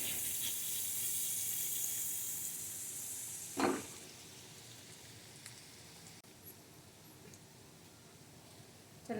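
Chopped garlic fries lightly in oil with a soft continuous sizzle, close and quiet, broken once by a single clunk from a utensil against the pan partway through.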